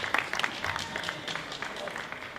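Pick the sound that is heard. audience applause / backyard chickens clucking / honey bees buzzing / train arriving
audience applause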